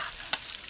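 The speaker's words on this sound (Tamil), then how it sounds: "கரண்டி போட்டு அப்படியே ஒரு கலவி விடுங்க." Chicken feet gravy being stirred with a ladle in a frying pan, a steady close sizzle with one brief scraping stir in the middle.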